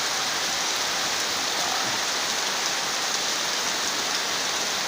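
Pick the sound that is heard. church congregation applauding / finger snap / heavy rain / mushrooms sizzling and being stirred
heavy rain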